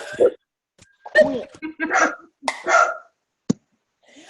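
A dog barks intermittently in the background of an online video call, short sharp yaps scattered among bursts of people talking, with one abrupt click near the end.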